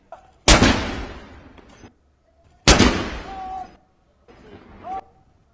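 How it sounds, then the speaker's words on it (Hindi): Ceremonial cannon salute fired by guns at a British royal ceremony: two loud booms, each with a long rolling decay, then a third, softer burst, heard from a distance across open air. "ब्रिटेन के परंपरा के मुताबिक तोपों की सलामी दी गई"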